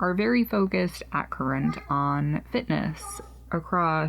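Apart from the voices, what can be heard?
No everyday noises stand out.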